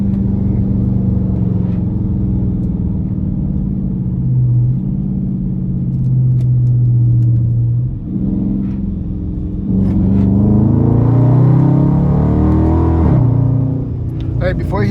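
A car driven on back roads with paddle shifters gives a low, steady engine rumble heard from inside, swelling as it revs up around the middle and later, then dropping back.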